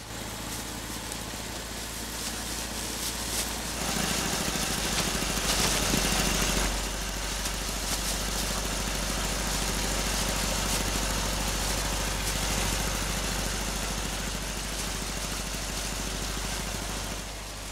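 A tractor trimming hedges in the bocage runs with a steady mid-pitched engine hum and faint mechanical vibration, rising a little in loudness partway through and holding for about eighteen seconds without speech.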